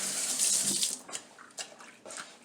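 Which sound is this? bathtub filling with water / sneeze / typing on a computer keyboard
bathtub filling with water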